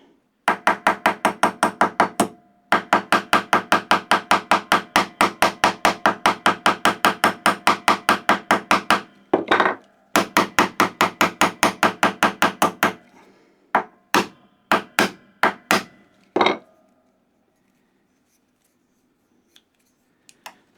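A hammer taps rapidly on the pivot screw of a pair of workshop scissors, long runs of quick, sharp metallic strikes close up, then slower scattered single blows before falling quiet.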